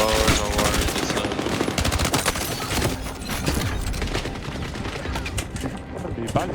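Rapid assault rifle fire in the Battlefield RedSec video game, dense bursts of automatic shots running almost continuously at close range, with a voice briefly talking under the gunfire.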